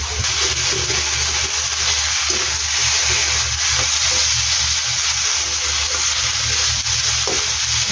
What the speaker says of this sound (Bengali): পেঁয়াজটা একটু ভেজে এখন দিয়ে দেবো রসুনটা